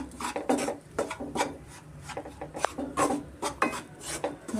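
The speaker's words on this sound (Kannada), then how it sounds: "ಚೆನ್ನಾಗಿ ತುಪ್ಪದಲ್ಲೇ ನಾವು ಫ್ರೈ ಮಾಡ್ಕೊಳ್ಳೋಣ" Wheat flour is roasted in ghee for ladoos, heard as rhythmic, close rasping scrapes of a spoon stirring the dry mixture against the pan, repeating about twice a second.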